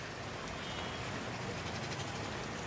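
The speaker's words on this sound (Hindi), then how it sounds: "सुबह से रिमझिम रिमझिम बारिश हो रही है" Light drizzling rain falls in Ayodhya under an overcast sky, a dense, even hiss of fine drops that stays steady and moderately quiet throughout with no voices.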